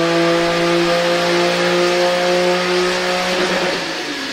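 V12 5.7-litre SV supercar engine held at a high, steady rev on a dyno, a loud sustained mechanical howl that drops off near the end.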